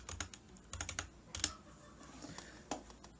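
Fingers tap on a computer keyboard entering numbers into a Microsoft Access query: quiet, close clicks in short uneven bursts with brief pauses between keystrokes.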